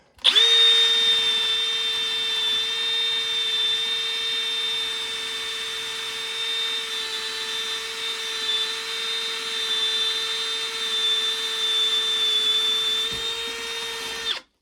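A 1/2 inch steel spade bit driven by a power drill bores through wood, giving a steady, loud motor whine that holds evenly for about fourteen seconds before stopping, with no talking.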